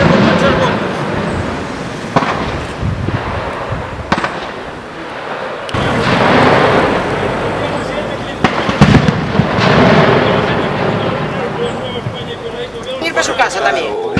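Firecracker bombs burst again and again during a street battle in Sotón, a loud, continuous crackling barrage with sharper bangs scattered through it, while people shout and talk amid the noise.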